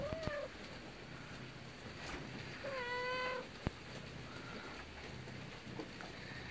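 A house cat meows twice, once briefly at the start and then a longer, clear call a few seconds later, set against a soft background of rain-like patter and a sharp click or two.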